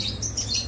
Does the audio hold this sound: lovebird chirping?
yes